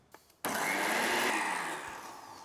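A blender whirs loudly as it purées hot sauce ingredients to a smooth consistency, kicking in abruptly after a couple of faint knocks and running steadily before easing slightly in volume.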